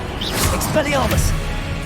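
Expelliarmus spell fired in a Hogwarts wizarding game: a quick whooshing cast followed by a sharp magical crack and a brief shimmering sweep, heard close amid game ambience.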